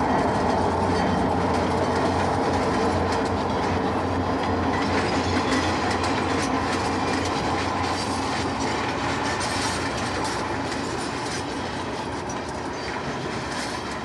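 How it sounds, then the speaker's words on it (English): Blue and yellow ALCo C-420 diesel locomotive pulling an inbound train around a curve at Cold Spring, a loud continuous engine rumble mixed with rolling wheel clatter, steady and close throughout with no voices. "the first train is pulled by a blue and yellow C-420 inbound"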